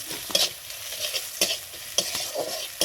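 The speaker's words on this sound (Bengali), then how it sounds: "সব পেঁয়াজ, কারি পাতা, কালো জিরা সব ভাজা হয়ে গেছে।" Onion, curry leaves and black cumin fry in a pan with a continuous sizzle, while a utensil stirs and knocks against the pan in repeated sharp clicks.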